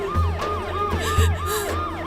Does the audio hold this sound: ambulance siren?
yes